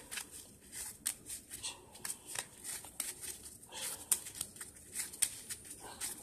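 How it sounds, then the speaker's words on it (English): A deck of trading cards being shuffled at a table during a Dinomist combo test play, with repeated soft riffling bursts and light paper flicks, fairly quiet and close, no voices. "I'm going to shuffle the deck too."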